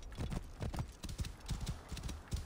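Horse hooves clip-clop steadily in Assassin's Creed Origins, a quick, even rhythm of close, fairly loud strikes running throughout with no talk over them.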